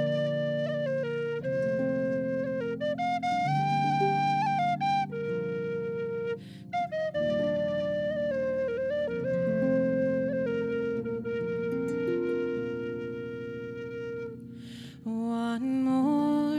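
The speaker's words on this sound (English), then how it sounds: "This is a big tin whistle. It's a special tin whistle." A large, low-pitched tin whistle plays a slow, mellow melody alone, sustained breathy notes gliding between pitches, close and clear.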